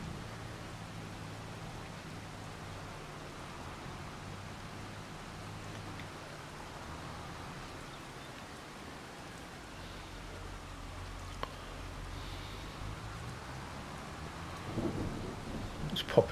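Steady rain hisses through a thunderstorm in the farming video game Farming Simulator 25, with low thunder rumbling in the distance and a few louder gusts near the end, no talking.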